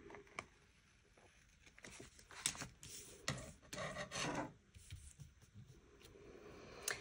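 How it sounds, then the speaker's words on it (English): Small scissors trim the excess white edge off a paper sticker in a planner, giving soft close snips and light rubbing of paper. Sounds are faint and irregular with no talk. "Just trim off a little bit of that white, excess white part of the sticker."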